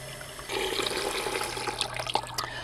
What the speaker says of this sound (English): this is simply done by opening up the tap